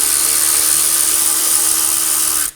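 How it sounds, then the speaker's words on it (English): Impact wrench or power tool with a 14mm socket breaking loose the front brake caliper bolts on a 2008-2015 Scion xB, a loud steady high-pitched whine running for about two and a half seconds before cutting off abruptly. "Using a 14mm socket, remove the caliper bolts. Crack them both free."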